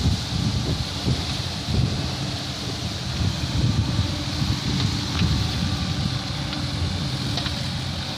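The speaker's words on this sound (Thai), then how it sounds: "ลมแรงมากเลยครับ" Strong wind gusting over a sandy pond excavation site during a storm, a steady loud roar with rumbling microphone buffeting that persists throughout, no voices.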